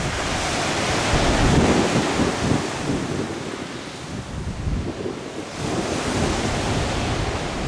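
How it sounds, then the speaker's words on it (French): Waves wash steadily onto a pebble beach at Nerja in Andalusia, a loud continuous roar of surf with wind buffeting the microphone, swelling and easing briefly before surging again. "C'est une plage de galets"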